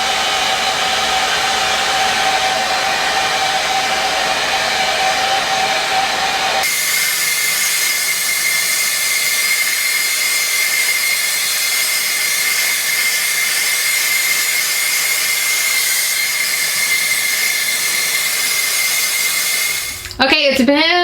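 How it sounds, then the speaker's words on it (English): A hairdryer blows steadily and loudly close by for about twenty seconds, drying hands coated in honey hand wax, with a shift in pitch partway through as it changes setting or position, then cuts off abruptly at the end. "Use a hairdryer to blow dry your hands."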